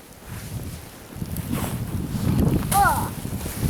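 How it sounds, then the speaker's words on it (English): Strong gusting wind during a heavy snowy blizzard, roaring and buffeting the microphone in swelling waves that grow louder toward the end, with a brief voice in the background. "The wind is whipping."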